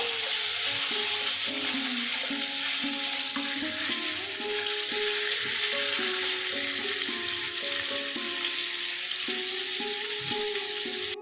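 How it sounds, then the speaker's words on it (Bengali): A catla fish head frying in a pan while being stirred, giving a steady loud sizzle with scraping stirring noises running throughout, and no talk. "মাথাটা বেশ কিছুক্ষণ ধরে একটু নাড়াচাড়া করে ভেজে নেব।"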